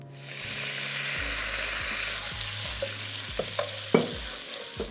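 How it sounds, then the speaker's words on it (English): Beef stock poured into a hot pan to deglaze it for Filipino kare kare, giving a steady, close sizzle and hiss throughout, with several scraping knocks of a utensil toward the end. "deglaze my pan with just a little bit of the beef stock I'm going to be using for this recipe"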